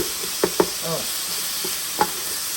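Minced garlic frying in a pan for homemade tacos, a soft sizzle under a few sharp knocks and scrapes of a utensil, close by, with no voices.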